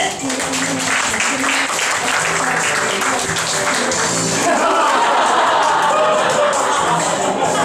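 An award-ceremony audience claps for the runner-up in a bowling final, dense steady applause throughout that swells louder partway through, with a voice speaking over it early on.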